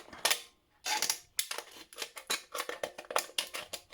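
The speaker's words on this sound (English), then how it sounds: "cut into the can like that, and you'll find that it will cut really easily." Ordinary scissors cut into a tin can with bright, metallic crunching snips, loud and close, first a few separate bites and then a quick rhythmic run of cuts.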